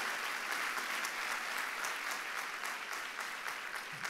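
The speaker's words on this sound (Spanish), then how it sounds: "¿Cuántos le dan un aplauso al Rey de Reyes," Steady applause from a church congregation for the Rey de Reyes during a sermon, sustained dense clapping at even volume throughout, with no talk over it.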